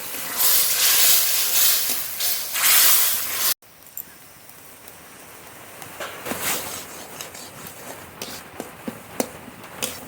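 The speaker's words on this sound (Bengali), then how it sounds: "এবার একটু জল দিয়ে মশলাটা খুব ভালো করে কষিয়ে নেব" Spice paste with tomato, salt and turmeric sizzles loudly in a pan when water goes in, a dense hiss that cuts off abruptly, then a quieter simmering crackle with scattered pops and stirring knocks.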